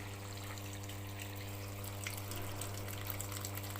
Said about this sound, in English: So it's filling with the water.